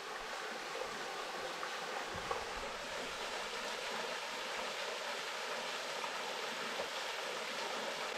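Kondalilla Falls waterfall pours in a steady, broadband rush of falling water, constant and fairly distant, with no voices over the continuous wash.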